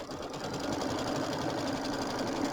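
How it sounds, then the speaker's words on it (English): An embroidery sewing machine stitches a placement line for a quilt block, giving a steady, continuous mechanical whir that stays close and even throughout with no talk. "I'm going to sew out my placement line."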